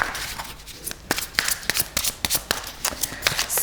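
Tarot cards being shuffled, a quick run of crisp papery riffles and soft slaps close by, with no one talking over them.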